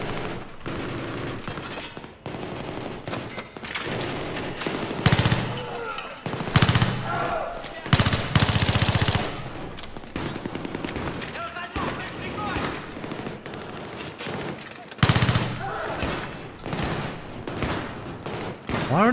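Battlefield 3 firefight with bursts of automatic fire and heavier booms, some near and loud, others more distant, spread across the stretch with a voice talking over parts of it.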